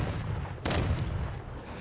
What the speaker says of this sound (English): And now it's our turn to fire the cannons.